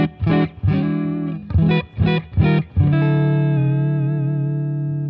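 A Charvel Pro-Mod SO-CAL electric guitar with a clean tone strums a few short, choppy chords, then lets one chord ring out and slowly fade with a slight shimmer.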